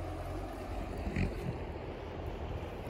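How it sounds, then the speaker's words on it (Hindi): Steady broadband rush of the clear Kishanganga (Neelum) river flowing through a mountain valley village in Gurez, with wind noise mixed in and no speech. "ये है रिवर कृष्णगंगा"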